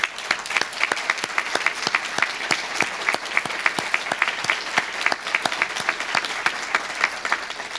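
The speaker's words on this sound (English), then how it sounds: "they're the ones that really deserve a round of applause and credit" Steady applause from an audience at a university event marking a gift to an institute, many hands clapping in a dense, even patter with a few sharper claps standing out, filling the whole stretch without any voices.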